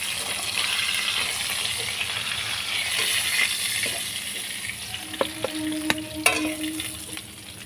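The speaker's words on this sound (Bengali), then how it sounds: "মাছগুলো আমার এক পিট করে ভাজা হয়ে গেছে, আমি উল্টে দিচ্ছি এক পিট করে।" Small hilsa fish fry in oil in a pan with a steady, bright sizzle throughout, and a few sharp clinks and scrapes near the end as the pieces are turned.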